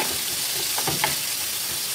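Tomatoes go into a pan of sautéing garlic and onion for ginisang munggo, bringing a steady close sizzle with a few soft stirring scrapes.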